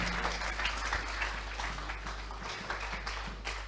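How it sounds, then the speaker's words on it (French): A church congregation claps for Jesus, a steady stretch of crowd applause with a low hum running underneath and no voices over it. "Applaudissez fort pour la gloire de Jésus."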